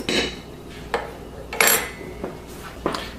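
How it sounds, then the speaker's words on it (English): Salt is stirred into flour in a bowl, heard as a few scattered scrapes and light clinks of a utensil against the bowl, fairly faint and close, with gaps of quiet between strokes. "go ahead and add your salt into your flour. Mix it up thoroughly."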